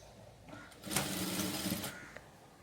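A sewing machine stitches a blouse, laying down the final stitches in a single close burst of rapid mechanical whirring that lasts about a second before stopping.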